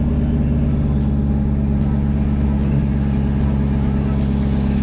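A car engine running in cold Michigan weather, a loud, steady, close rumble that holds evenly for the whole stretch without clear rises.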